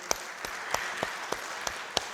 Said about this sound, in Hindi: ज़ोरदार तालियां बजाते हैं इस सेशन के लिए